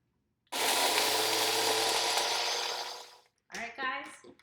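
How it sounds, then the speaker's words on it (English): A countertop blender whirs loudly for about three seconds, blending watermelon with water, honey and vanilla, then stops; a voice speaks briefly afterward. "Ready to put the cover on and blend it up."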